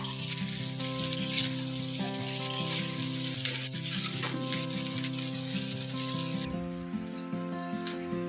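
Chicken masala sizzles loudly in a pan while being gently stirred, a dense, continuous frying crackle with faint scraping from the spoon under steady background music.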